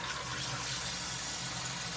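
Tap water runs into a sink while surgical instruments are rinsed under it, a continuous close hiss and splash with no pauses or voices.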